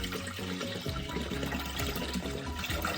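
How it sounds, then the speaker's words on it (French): Water is poured into a container for homemade liquid laundry detergent, making a continuous gurgling, splashing rush that stays loud and steady from start to finish. "Donc je mets 5 litres d'eau."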